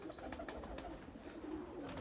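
A fresh lot of ordinary pigeons for sale keeps up a faint, steady cooing chorus, with scattered short chirps breaking through the low murmur.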